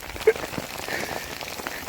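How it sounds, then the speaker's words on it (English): Hail patters down outdoors in Victoria, Australia, where people dig for amethyst crystals at Reedy Creek, Eldorado; a soft, dense scatter of small impacts runs throughout, with one sharper tick early on. "It is now hailing and we are still digging."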